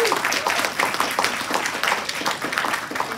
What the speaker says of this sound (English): I would ask for the audience to hold their applause to the end.